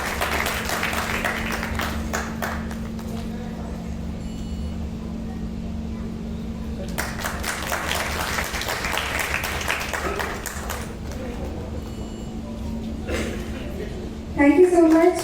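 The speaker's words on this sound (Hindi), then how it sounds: "हमारे बीच में जोरदार तालियां होनी चाहिए।" Audience applause at a welfare foundation evening event, sustained clapping from a crowd in two long waves over a steady hum, ending as a voice starts speaking.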